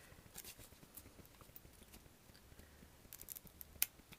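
Scissors trim the top edge of a paper card for a handmade wedding card, giving faint, scattered snips with light handling rustle and one sharper click near the end.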